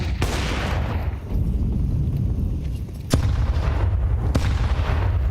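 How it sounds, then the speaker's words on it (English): Grenades explode in a barrage during a Counter-Strike match, with a heavy blast at the start and two more sharp booms later over a constant dense rumble of game noise. "Artillery barrage connecting onto Torsen. He's just been booked by the grenades."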